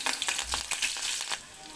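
Curry leaves and garlic in hot oil in a pot, a short close crackling sizzle with a few sharp pops and spits, fairly faint overall and with no voices.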